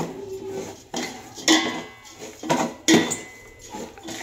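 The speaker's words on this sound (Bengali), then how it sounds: "হালকা করে একটু ভেজে নিচ্ছি" Gobindobhog rice lightly fried in a pan for basanti polao, heard as several distinct scraping and clinking strokes of a spoon against the pan over a faint sizzle, close by.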